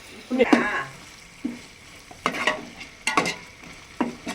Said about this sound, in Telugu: ఉల్లిపాయ, పచ్చిమిరపకాయలు, మెంతులు, జీలకర్ర, ఆవాలు, కరివేపాకు వేసాం.